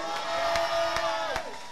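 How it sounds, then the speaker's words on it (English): Church audience at a bishop's sermon clapping and shouting, with faint cheering and scattered sharp claps under a sustained tone, all fairly quiet. "Can you clap and shout?"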